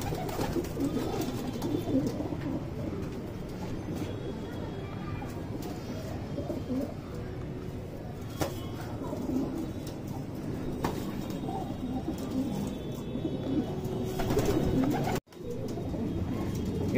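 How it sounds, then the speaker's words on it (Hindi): Madrasi pigeons, a flock offered for sale, coo continuously in low, throaty rolling calls close by, with occasional wing flutters and chirps in the background and a brief break near the end. "ये देखो भाई कबूतर"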